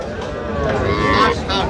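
A cow lets out a long, loud, close moo, with crowd chatter and market noise underneath, at a cattle market in Bagerhat, Bangladesh, where young bulls and heifers are being sold.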